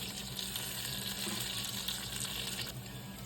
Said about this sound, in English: Y'all know I cook my bacon with water so the fat can render.